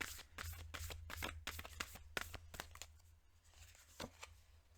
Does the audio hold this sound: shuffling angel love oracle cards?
yes